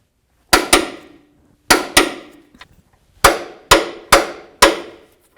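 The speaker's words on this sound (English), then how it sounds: "Now let's torque these bolts to 200 foot-pounds." A torque wrench tightening power steering rack bolts to 200 foot-pounds on a 2007–2017 Ford Expedition: sharp metallic clicks, close and loud, mostly in quick pairs with short pauses between them.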